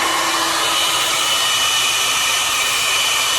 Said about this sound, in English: You take the blow dryer and you just